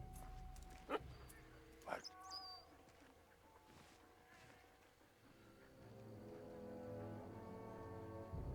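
A dog in the war game Valiant Hearts gives a few short barks and yips early on, close and fairly clear, over a low rumbling game backdrop with music swelling later.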